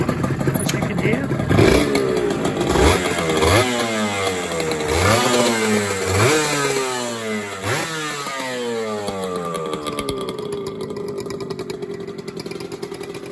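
Honda NSR250 MC18 two-stroke motorcycle engine running close by, with a raspy, buzzy tone rising and falling through repeated revs and then settling back to a steady idle.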